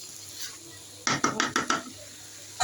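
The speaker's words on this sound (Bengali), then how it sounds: "কষানোর জন্য ঢাকনাটা উঠিয়ে একটু নাড়া দিয়ে দিচ্ছি" A pot lid lifts and a spoon stirs chicken in spices for chicken chaat: a quick run of five or six sharp metallic clatters and scrapes, close and fairly loud, between quieter stretches of kitchen background.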